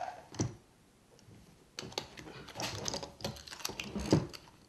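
Spring-loaded locking mechanism on a Harbor Freight F clamp being worked by hand, giving a few close, sharp clicks and ratcheting snaps in short irregular bursts, with a louder click near the end.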